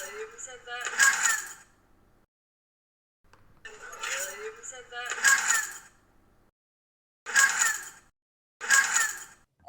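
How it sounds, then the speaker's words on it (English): Keys jingle and clink in four short bursts separated by silences, with a faint voice-like sound mixed into some of the jangles. "You can hear my keys jingling"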